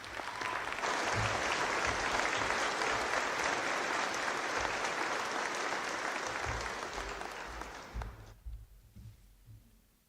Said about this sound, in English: Let's give her a warm round of applause.